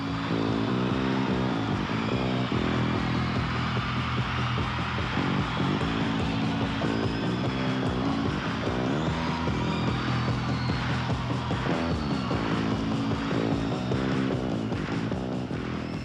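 A heavy, driving rock riff led by bass guitar, with thick low-end bass and distorted guitar, loud and continuous with a steady repeating pattern throughout.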